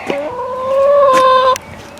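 Backyard hens near their coop give a run of clucks with one drawn-out, rising call. The sound is close and clear, with no one talking.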